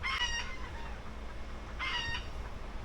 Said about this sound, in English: Chickens are going nuts.